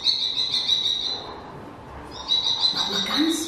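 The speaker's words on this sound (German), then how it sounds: "Das ist nicht unsere Turteltaube. Das ist unser Star. Der Vogel, der Star." A common starling sings nearby in loud, sustained whistling phrases with a short pause in the middle, broken by raspy clicks and a rising squeaky note near the end.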